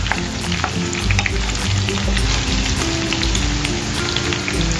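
Potatoes fry loudly in a pan for chicken curry while being stirred, a dense close sizzle with a low rumbling undertone and intermittent scraping from the spoon.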